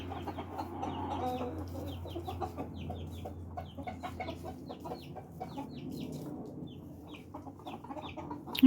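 A small flock of chickens, including Silkies and a new baby chick, clucks softly and steadily, with short scattered peeps and calls mixed in and no talking.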